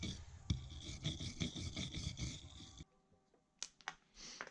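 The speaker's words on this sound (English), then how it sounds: "This sleeve slash spacer, we'll hit it with the wire brush." A wire brush scrubs a wheel bearing spacer sleeve from a Yamaha Raptor/Warrior 350 ATV, making a close, steady rasping for a few seconds, then a quiet pause and a few brief scrapes.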